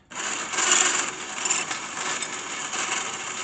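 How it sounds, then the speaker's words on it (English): Gearbox on a firewood equipment winch whining and grinding as it spools out, a steady harsh rasping drone that holds loud and close throughout. "There are some unhappy gearbox noises"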